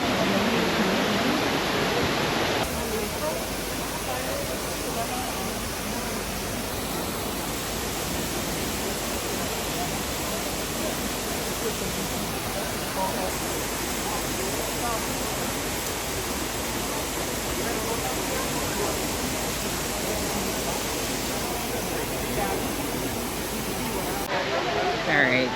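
Steady broadband roar of a waterfall in Guadeloupe, constant and fairly distant, with a faint voice briefly under the rushing water.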